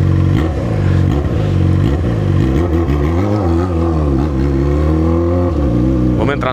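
Ferrari 458 Italia revving close by, its engine swelling and falling in repeated rising pulls, loud and steady across the whole stretch, with no speech over it.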